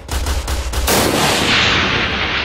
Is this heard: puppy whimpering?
no